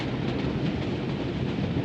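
A steady, dense rumble of a train running on rails fills the whole moment, constant and fairly loud with no distinct clacks standing out, as a sound effect for a radio drama.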